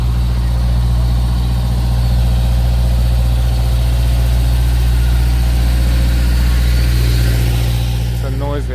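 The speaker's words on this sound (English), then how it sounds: "Noisy ice cream truck." On a New York City street near 42nd Street, an ice cream truck's engine idles loudly and steadily with a deep low rumble and constant drone throughout, close by, with a brief voice near the end.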